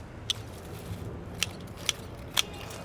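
Garden snips cut through plants in an overgrown vegetable bed, four crisp, quick snaps spaced irregularly over a low outdoor background hum.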